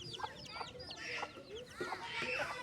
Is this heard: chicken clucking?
yes